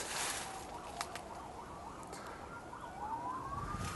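Emergency vehicle sirens wail outside on a rainy night near an abandoned house, their rising and falling tones distant and faint over steady rain patter, with a couple of sharp knocks.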